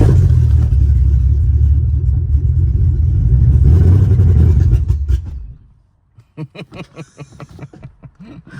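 A Mercedes C63 engine running roughly with a misfire, a loud sustained rumbling idle that suddenly cuts out, followed by a series of uneven clattering pulses.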